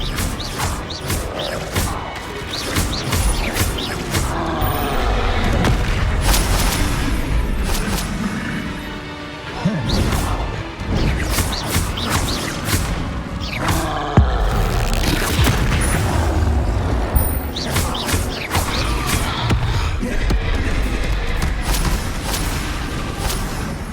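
Spell combat in Hogwarts Legacy, with Confringo fire blasts and Expelliarmus disarming casts: a dense, loud run of booming explosions, crashes and whooshing impacts that barely lets up, with one short lull partway through.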